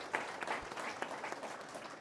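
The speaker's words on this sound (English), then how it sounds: "round of applause" A crowd at a gathering for soccer players claps in a brief, faint patter of applause heard from a distance.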